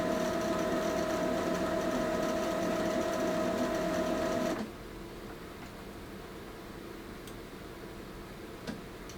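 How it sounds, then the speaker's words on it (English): A printer runs with a steady mechanical whir and rhythmic ticking for several seconds, then stops abruptly, leaving a quiet room with one faint click. "Come on, printer, you can do this."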